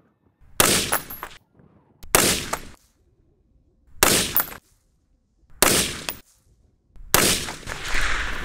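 Five loud, close single shots from an M4 rifle firing Gorilla Ammunition with Sierra MatchKing bullets, spaced about one to two seconds apart, each with a brief ringing tail at an outdoor range.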